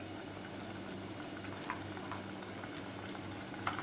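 Kerala-style prawn masala with coconut pieces simmers in a pan with a soft, steady bubbling and faint sizzle, quiet and continuous, with a couple of small ticks along the way.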